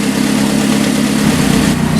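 A 1981 Alfa Romeo Spider Veloce engine idles steadily at around 900 to 1,000 RPM, a loud, continuous close-up rumble with no voices over it.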